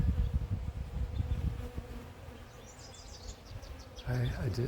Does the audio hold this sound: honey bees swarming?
yes